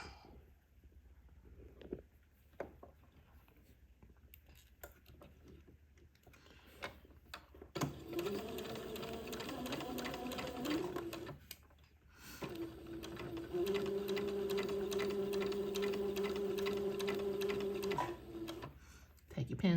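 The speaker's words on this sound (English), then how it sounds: "I will sew this entredot to the front edge of the bonnet." A sewing machine stitches entredot lace onto the front edge of a baby bonnet in two steady whirring runs, one shorter and one longer, separated by pauses with small clicks, recorded close and quiet.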